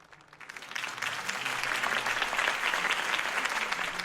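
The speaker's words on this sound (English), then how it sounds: "could have heard that applause" Crowd applause after Harvey Dent's campaign speech in the Batman Telltale video game, rising from quiet to a sustained, dense wave of clapping that fills the scene at steady level.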